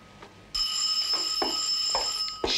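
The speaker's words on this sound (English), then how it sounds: "Shall I answer the telephone?" An old-style telephone bell rings with a sustained, loud metallic trill that starts abruptly and continues, with brief soft thumps and clicks beneath it in an indoor setting.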